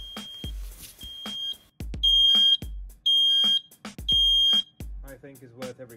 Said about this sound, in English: And the alarm is also making its sound as it should be